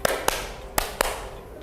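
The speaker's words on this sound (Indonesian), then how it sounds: "Tepuk empat" Hand claps from a classroom lesson on clapping patterns, sharp and close in two loose pairs, four in all, with quiet room tone between them and no talking.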